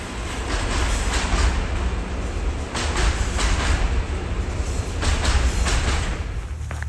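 A train passes close by on a railway line in rural Sweden, with a loud sustained rumble and repeated clattering wheel beats over a steady roar of wind and motion.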